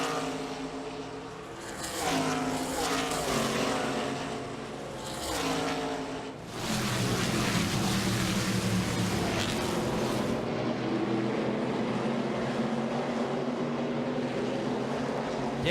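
NASCAR K&N Pro Series East stock cars racing at Watkins Glen International, loud engines roaring past in repeated waves with rising and falling pitch, ending in a sustained full-throttle drone.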